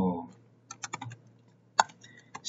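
Code being typed on a computer keyboard, sparse close key clicks in small bursts separated by quiet gaps, with a brief voice at the start.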